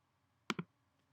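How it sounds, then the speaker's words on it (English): Two quick mouse clicks in close succession, crisp and near in a quiet room, pressing the Continue button on an online Medicare supplement application form. "We'll go ahead and click Continue."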